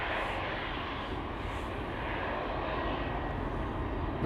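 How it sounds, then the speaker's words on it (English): German Airways Embraer 190 jet departing Amsterdam Schiphol, a steady broad engine roar heard from a distance with no other clear sounds. "This is KLM flight 1843 to Nuremberg"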